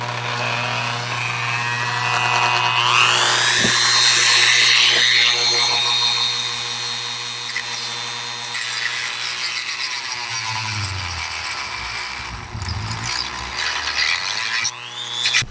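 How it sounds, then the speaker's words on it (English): A saw cuts a plastic kayak track piece, a loud buzzing, ratcheting mechanical drone that swells early, then gives way to rougher, uneven scraping bursts and clatter toward the end. "this saw should be what I need to cut it straight and finish the job"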